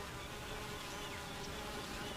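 Honeybees buzzing near the entrance of their hive, a faint, dense, continuous droning hum that holds throughout, with no voices.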